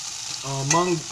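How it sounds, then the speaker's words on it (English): Onions added to a hot frying pan for low-carb shirataki chow mein, a brief close sizzle with a bright hissing rise and a tonal squeal near the end. "So I'm gonna add in the onions."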